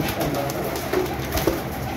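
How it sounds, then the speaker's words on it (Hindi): Low, soft coos of flying pigeons, a couple of short murmuring calls about a second apart, close by over a steady background hum. "फिट एंड फाइन कबूतर आपके सामने चेक कर ले"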